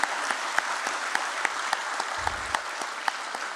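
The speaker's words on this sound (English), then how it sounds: "Can we please begin this beautiful morning with a huge round of applause" Audience at the NSDL listing ceremony at BSE gives a sustained round of applause, steady dense clapping from a crowd with a few sharp nearby claps standing out, no talking over it.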